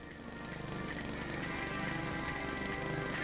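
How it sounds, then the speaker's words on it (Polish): A lawn mower runs in the video game Finnish Cottage Simulator, giving a steady, buzzing motor drone that grows slightly louder at the start and then holds even, with no voices. "Kosiarka dotarła!"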